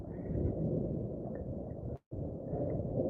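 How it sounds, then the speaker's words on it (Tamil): Heavy rain pours steadily at an empty temple, a dense low roar of downpour with possible rumbling thunder mixed in, broken by a brief near-silent gap partway through. "நல்ல மழை பெய்யுது"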